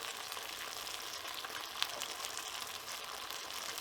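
Korean bulgogi beef sizzles and crackles steadily in a pan while it is stirred, a fairly quiet, dense frying hiss with a single sharp pop near the middle.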